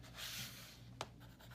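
Pencil scratching across a scrap sheet of paper while graphing a math inequality, a quiet continuous scribble with one brief sharper stroke near the end, close and faint with no talking.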